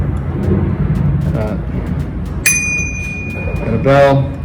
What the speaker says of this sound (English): Right over here, we've got a bell.